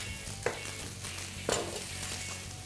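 Leeks and vegetables fry steadily in a pan for chicken parm, a continuous close sizzle with two brief clinks or stirring knocks from a utensil, no talking.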